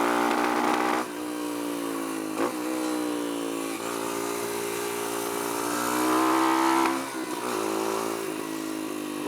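A Kawasaki KLX140 dirt bike with a newly installed carburetor, running lean, revs close up in strong rising and falling surges. Its pitch dips briefly between blips of the throttle.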